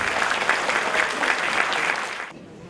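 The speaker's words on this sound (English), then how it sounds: "Please give them a round of applause." An audience at the 2019 International Baba & Nyonya Convention in Melaka claps in a dense, even burst of applause for a little over two seconds, then it stops abruptly.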